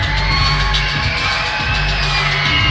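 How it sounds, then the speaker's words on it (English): Basketball arena crowd during a London Lightning versus Island Storm game, a loud continuous wash of cheering and shouting that holds steady throughout, with scattered whoops and yells rising out of the dense roar. "Well, the crowd seems to be going pretty good right now."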